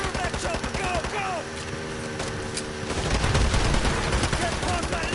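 Rapid automatic gunfire from a helicopter in the Call of Duty Modern Warfare 2 campaign, loud bursts layered over rumbling game effects and a voice speaking.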